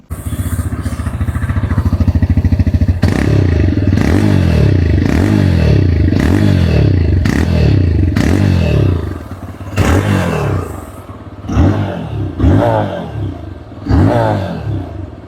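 A 2026 TVS Raider 125 motorcycle, the double-disc ABS top model, idles steadily up close, then its exhaust barks through a series of sharp revs that rise and fall repeatedly with short gaps between them.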